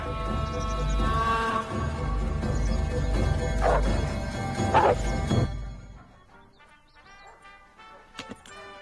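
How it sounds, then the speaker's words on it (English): Several dogs bark and yelp in overlapping bursts, loud and fairly close, then the noise drops away to a few faint distant yips. "Oh, no, that's more than one dog, Marty."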